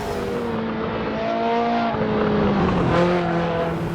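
A race car in a sim racing game drives and corners in a car that does not grip, its engine drone rising and falling in pitch, loud and close, with no talking.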